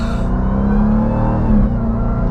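A 2023 Dodge Durango Hellcat SUV's supercharged V8 roars under acceleration, a loud, dense low growl heard up close that holds steady for about two seconds with no talking.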